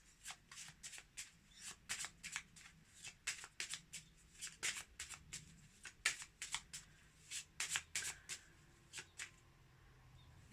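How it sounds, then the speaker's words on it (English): A deck of tarot cards is shuffled by hand, a quick run of crisp riffling flicks and slaps, close and clear, with brief pauses between bursts. "I'm just going to pull a card from this and see what it says."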